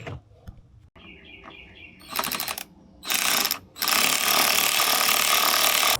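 An Amazon-bought impact driver resembling a DeWalt, used while fitting a new rear bumper on a Ford Bronco, rattles loudly in a short burst, then a longer one, then a sustained run of hammering, close by with no talking.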